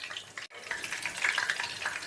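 Boneless chicken pieces fry in hot oil with a close, crackling sizzle, briefly cut off for a moment, then resuming with bright popping spatter and stirring, no voices.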